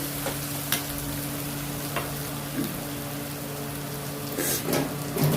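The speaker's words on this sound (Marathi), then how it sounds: "आता आपण याच्यामध्ये घालणार आहोत तांदूळ" Soaked rice being added and stirred into a pot of sizzling potato biryani base, a steady frying hiss with scattered scraping and stirring knocks, close and moderately loud with no talking.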